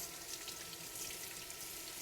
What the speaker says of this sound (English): So let's rinse the squash.